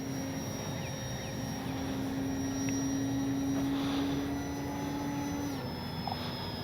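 An H-King Kitfox RC model airplane flies with a steady, even electric motor whine and a sustained tone that shifts pitch near the end, alone with no voices.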